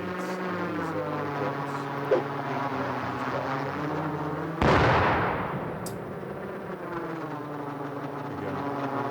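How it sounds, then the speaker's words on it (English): A grenade dropped from a drone in the video game Rust goes off as a single sharp blast midway through, with a decaying rumble, over a steady droning buzz. "Those grenades in these drones,"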